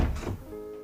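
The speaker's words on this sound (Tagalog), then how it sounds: "Biglang bumukas ang pinto." A door bursts open with a dull thunk, short and fairly close, its knock fading into a quiet room tone with a faint steady hum.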